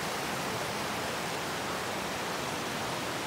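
Kamboz Creek, a mountain stream near Güneysu in Rize carrying snowmelt in mid-May, rushing in a dense, even hiss of flowing water that holds steady throughout with no voices.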